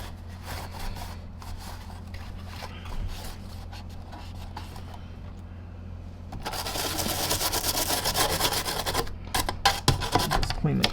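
Scrubbing the crevices of a Zero G F3D Edgelift vacuum power nozzle, soft rubbing and rasping strokes close up, growing louder and denser in the second half.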